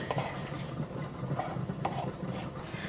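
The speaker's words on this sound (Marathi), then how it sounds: "आतां कांदे हांव ह्या बोलान काडटा न्हिवयपाक" Fried onions, cooked until dry, are scraped from a pan into a bowl with a utensil, giving steady stirring and light metallic scraping and clinking against cookware throughout.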